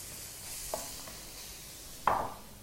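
Carrots and mushrooms sizzle softly in a pan being shaken and scooped back, with a faint steady fry broken by two brief scraping clatters, the second louder and closer.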